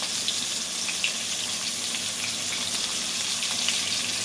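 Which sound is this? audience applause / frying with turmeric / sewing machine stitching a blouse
frying with turmeric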